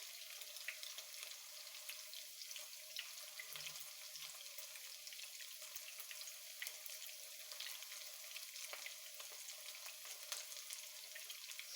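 Quaker oats patties fry in a pan, giving a steady, even sizzle with fine crackling throughout, soft and close with no talking over it.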